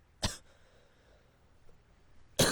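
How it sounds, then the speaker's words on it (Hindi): A single sharp cough bursts out near the start, and a second starts right at the end, both close and loud against a near-silent room. "सॉरी खांसी।"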